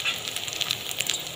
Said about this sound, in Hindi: और जो दूसरी साइड है उसको भी फ्राई कर लेना है।